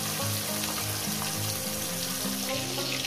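Parshe fish pieces frying in hot oil, a steady close-up sizzle and crackle running throughout with a low hum beneath and no talking.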